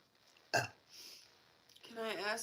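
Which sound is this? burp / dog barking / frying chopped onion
burp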